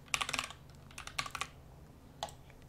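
Quick bursts of keystrokes on a computer keyboard, entering a value into a data validation field in SQL software, with clustered clicks near the start, another run around the middle and a single brief tap at the end, close and fairly quiet.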